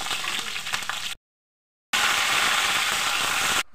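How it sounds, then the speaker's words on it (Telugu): Whole spices temper in hot oil for a stuffed brinjal curry, giving a bright, crackling sizzle close by that stops for under a second and then resumes more strongly before ending abruptly. "అన్నీ ఇలాగ తాలింపు వేసేసుకోవాలి"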